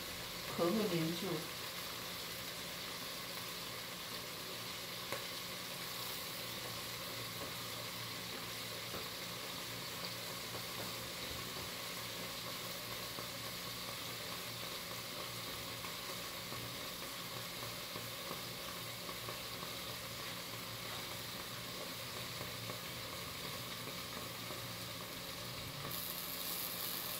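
White shrimp sprinkled with salt and a little oil sizzle steadily on a griddle pan, a continuous even frying hiss that holds at the same level throughout, with a brief clatter near the start.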